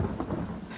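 Rain and thunder from a spell cast in the game Divinity: Original Sin, a dense rumbling wash with a steady hiss of rainfall, loud and continuous with no talk.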